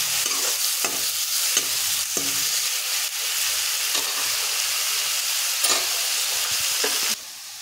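Salt and turmeric being stirred into food in a hot frying pan: steady sizzling hiss with repeated scraping knocks of a spatula against the pan, close and clear, ending in quieter sizzle.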